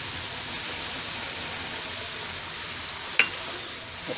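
A steady, moderately loud sizzle as beaten egg cooks into onion masala in a pan for khagina, with a single sharp tap of a utensil near the end, no voices.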